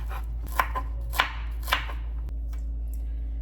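Knife chopping through raw banana (plantain) on a board, three distinct crisp cuts spaced about half a second apart, close and fairly quiet over a steady low hum.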